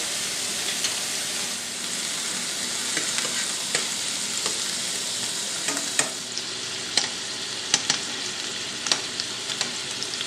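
Food sizzles steadily in a pan of hot oil with a little butter, a close, even crackle with a few sharper pops and clicks of stirring toward the end, with no speech.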